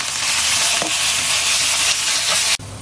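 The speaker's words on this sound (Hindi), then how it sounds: "सबसे पहले ऑयल डालिए, थोड़ा सा अदरक लहसुन इसमें सॉटे करें। ये चिकन का कीमा ऐड कर दें।" Chicken mince sautés in oil with ginger and garlic while being stirred: a loud, steady sizzle with scraping stirs that cuts off abruptly near the end.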